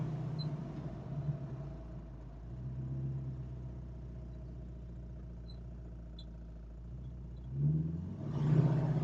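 A 1968 Mustang Fastback engine idling low and rumbling, then surging in a brief rev near the end as too much gas is given.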